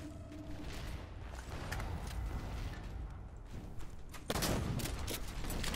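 Shotgun blasts from the Halo: The Master Chief Collection multiplayer game, a scattered series of sharp booms amid ongoing gunfire, ending in a louder, close burst near the end.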